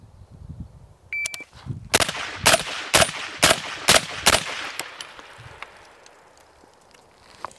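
FN SCAR-H .308 battle rifle fired at long-range targets: an electronic timer beep, then a rapid string of loud, sharp shots about half a second apart, echoing away into quiet.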